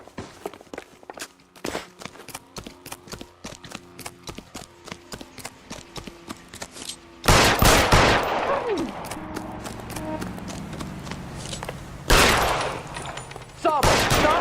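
Gunfire in the L.A. Noire video game: footsteps patter first, then a loud burst of shots erupts with echoing tails, followed by another sharp volley and one more near the end.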